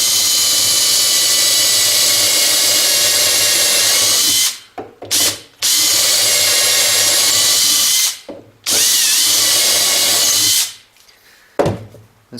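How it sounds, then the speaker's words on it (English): A power drill whines loudly and steadily through hardwood in three long runs broken by brief pauses, boring holes for a knife block, with no talk. "I'm going to be very careful drilling those holes"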